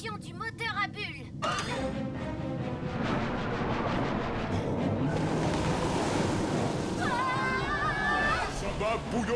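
In an underwater cartoon, a bubble engine on the octocapsule vessel reverses with a rushing, watery bubbling roar that runs steadily throughout, with brief character voices at the start and near the end.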